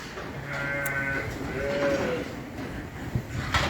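Sheep and young lambs bleat repeatedly on a farm on the Isle of Arran during lambing season, several overlapping calls close by over steady outdoor background noise.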